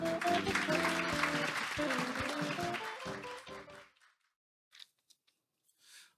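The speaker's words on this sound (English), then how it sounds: "Please give a big round of applause for Mr." An audience at a business forum on the metaverse claps to welcome a speaker, a full burst of applause that fades out after about four seconds, followed by a few faint scattered sounds.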